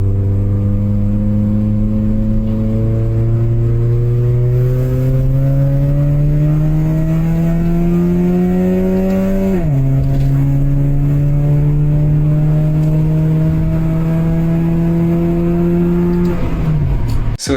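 A modified Honda Fit with DME mid pipe, J's Racing Type 2 downpipe, Megan Racing headers and a Honda Data tune revs loudly and close, its engine note climbing steadily, dropping at a shift, then climbing again before cutting off.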